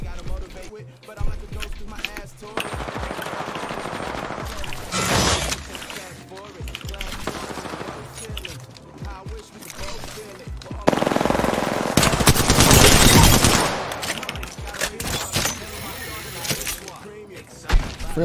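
Rapid automatic gunfire bursts from a game of Apex Legends played ranked on a controller, loud bursts coming and going with sliding and movement noise, while a player talks over it.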